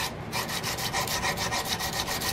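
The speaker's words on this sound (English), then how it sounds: "I'm going to shift towards my sandpaper, backing it with my file" Sandpaper backed by a file rubs back and forth over a wooden gun stock, a steady rhythmic scraping at close range with even strokes and no talking.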